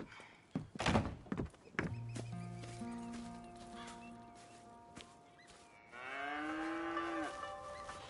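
Cattle on a farm in Red Dead Redemption 2 moo, with a long low moo near the end, preceded by a few thunks and hoof clip-clops and set against a quiet backdrop of faint tones.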